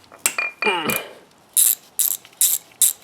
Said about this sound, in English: This little 1/4-inch ratchet is nice for these tight spaces